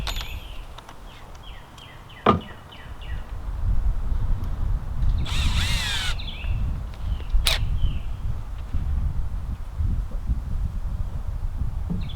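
A power drill drives screws into a scrap wood lid for a bee swarm bait hive, with a few short whirring bursts and sharp knocks against low background rumble.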